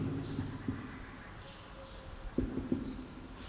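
Chalk or marker writing on a board during a Class 10 maths lesson on circle areas: faint scratchy strokes with a few sharper taps, quiet and close, over a low room hum.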